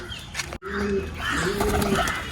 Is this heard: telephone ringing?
no